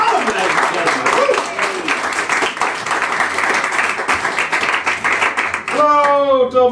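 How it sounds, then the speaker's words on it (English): Dense, loud audience applause and clapping in a Dublin comedy club, sustained for several seconds before fading as a voice starts speaking over the end. "Thanks for continuing the applause right until I got up here"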